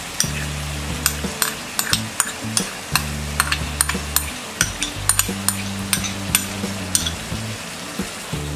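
Soaked moong dal goes into a hot pan for lauki sabzi, sizzling steadily while a utensil scrapes and stirs in repeated close clinks over a low background hum.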